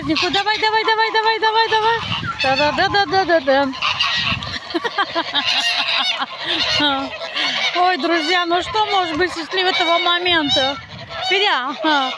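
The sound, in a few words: turkey hens calling loudly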